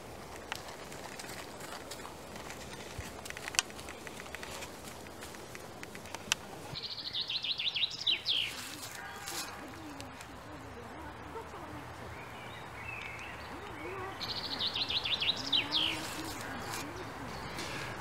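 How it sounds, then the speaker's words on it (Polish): Spring birdsong in a city park beside a playground: two short bursts of high chirping and twittering, close by, over a steady background murmur of voices and park noise. "chciałem nagrać śpiew ptaków"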